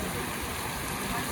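Heavy rain pouring down on a mountain roadside stop near Narkota on the route from Rishikesh to Badrinath, heard as a steady, dense hiss that fills the short moment with no voices over it.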